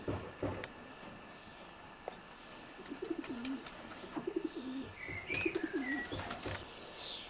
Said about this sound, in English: What methods do you race your pigeons on then, Ray?